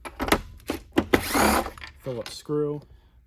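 A power screwdriver removing Phillips screws from the bottom plate of a Riccar Supralite vacuum, short whirring bursts with clicks and a rising motor whine, alongside someone talking.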